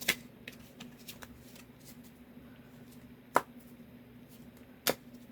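Tarot cards being shuffled by hand, a soft continuous riffle of card edges with a few sharper slaps standing out, close and quiet, with no talking.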